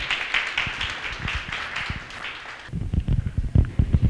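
An audience at a book presentation applauds for don Jaime, with a burst of close, scattered handclaps that turns sparser and lower after a few seconds.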